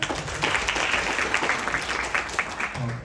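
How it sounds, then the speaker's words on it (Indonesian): Steady clapping from a live stand-up comedy audience in Indonesia, moderately loud and continuous for a few seconds, with a voice briefly starting to speak at the very end. "boleh minta tepuk tangannya?"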